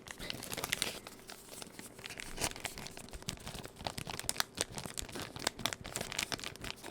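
Plastic packaging is crinkled and tapped close up, with dense irregular crackles and sharp snaps in quick bursts throughout, sometimes louder, with no talking.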